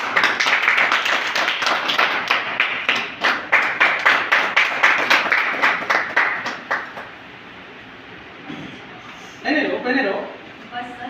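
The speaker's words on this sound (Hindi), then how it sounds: "आपकी तालियों के साथ।" A seminar audience in Jaipur claps in a loud, rhythmic unison beat for about seven seconds. The clapping then fades, and voices follow.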